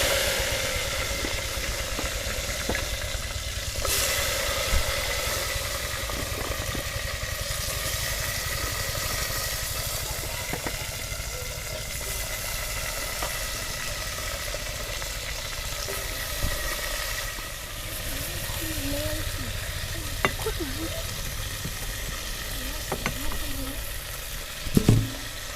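Gunda gumberries fry in a pan with a steady, loud sizzle and hiss that carries on throughout, with occasional stirring clatters and faint background noise but no talk.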